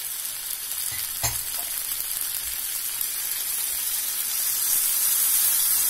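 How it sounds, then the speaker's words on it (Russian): Steady, bright sizzling of onions frying in a hot pan, a continuous crackling hiss that swells slightly louder toward the end, with a brief clatter near the start. "И жарим лук."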